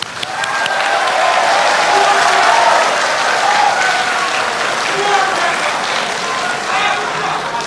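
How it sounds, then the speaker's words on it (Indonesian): A studio audience at a televised presidential debate gives a loud, steady round of applause, dense and continuous, with faint voices mixed in underneath. "Anda silakan tepuk tangan."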